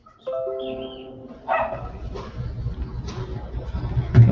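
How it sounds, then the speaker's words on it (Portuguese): Dogs bark and yip outdoors at a middle distance, several scattered sharp barks over a low background hum, with a short melodic tone near the start. "Tem uns cachorros aqui latindo, perturbando."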